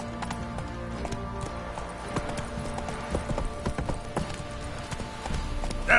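Hooves of Roach, a horse in the video game The Witcher 3, clip-clop in a steady galloping rhythm throughout, with game music and ambience running underneath.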